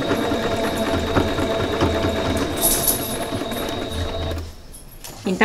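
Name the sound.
sewing machine stitching fabric with backstitch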